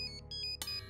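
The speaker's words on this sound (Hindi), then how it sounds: "फोन आ रहा है" A phone's electronic ringtone chimes in a Hindi TV drama household, short repeating tonal beeps at moderate level with a louder burst partway through.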